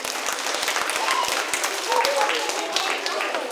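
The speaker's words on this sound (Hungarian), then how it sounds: "Tapsoljuk meg a tanító." An audience at a Hungarian author's reader meeting claps for the teacher, a lively, steady round of applause from a nearby crowd with voices talking over it.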